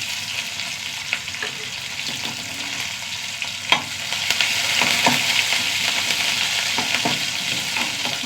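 Onion, mustard seeds, curry leaves and chillies frying in hot oil in a pan, an even close sizzle with scattered crackles and pops and occasional stirring, growing slightly louder near the end.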